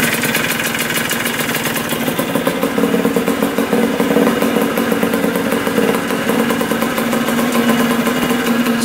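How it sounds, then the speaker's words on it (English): Engine of a rare 1977 dirt bike found sitting in a barn for over 20 years, idling low with a steady, loud, rapid thumping putter, close up and unbroken, no talk. "Look how low that idles."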